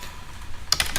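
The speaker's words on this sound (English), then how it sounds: "I can hit Control F1 whenever I want it" Computer keyboard pressed for Control F1, a quiet pause followed by a short burst of several close clicky keystrokes near the end.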